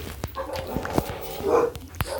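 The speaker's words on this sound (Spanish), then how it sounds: "ladridos, perdónenme" A dog barks in a Minecraft-style game, a handful of sharp separate barks spread over a busy, noisy background.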